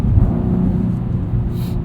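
A 2016 Cadillac ATS-V Coupe with a six-speed manual pulling hard under acceleration, a deep, loud, steady engine rumble heard from inside the cabin with no talking.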